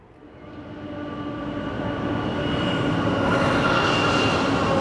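A train in New South Wales rumbles closer, its steady roar swelling and staying loud, with a faint metallic whine above the rolling noise.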